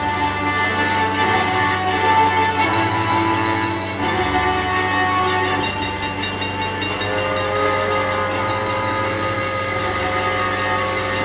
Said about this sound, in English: That's the train. I like trains.